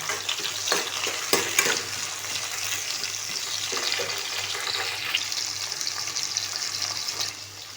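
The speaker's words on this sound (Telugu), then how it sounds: "టమాటా అనేది యాడ్ చేసుకొని ఫ్రై చేసుకోవాలి" Onions and tomato frying in a pan for a methi chicken curry, a loud close sizzle broken by scraping stirs and clinks of a spoon against the pan, with no talking.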